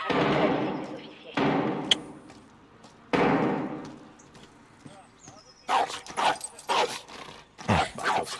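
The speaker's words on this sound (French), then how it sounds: "Petit chien méchant." A dog barks and whimpers in the Modern Warfare video game campaign in a town setting, with scattered barks, thuds and slams mixed under voices talking.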